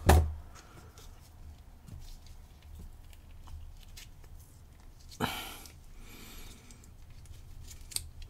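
A few crisp snips of scissors cutting packaging on a lock, a sharp one at the start and another burst midway, with quiet rustling in between.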